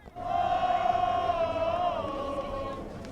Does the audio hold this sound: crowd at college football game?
yes